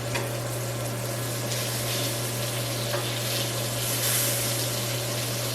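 Cajun salmon sizzles in a pan after being flipped, a steady moderate frying hiss over a low constant hum, with no talking.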